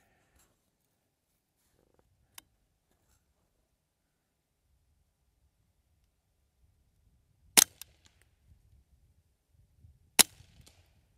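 Two sharp rifle shots from a custom Ruger 10/22 fired at steel targets 100 yards downrange, each a crisp crack followed by faint rustling, with long quiet gaps between them and no talk.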